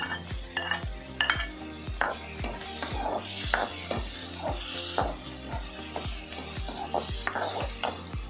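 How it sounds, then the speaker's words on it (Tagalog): Radish and chili sautéing in a pan for salmon-head sinigang, a steady sizzle under repeated scraping strokes of a spoon or spatula stirring at a regular pace, close up and without talk. "Sasama ko na sa paggisa ang labanos kasi matigas siyang gulay."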